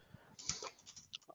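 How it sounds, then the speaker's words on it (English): Quiet, scattered key clicks of typing on a computer keyboard into a support chat window, a short irregular run of taps close by with no talking. "you just start typing down here to start the conversation"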